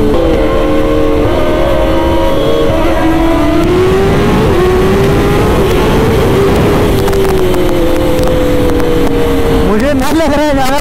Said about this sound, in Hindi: आवाज साथ में ही चल रही है दोनों बाइक लगभग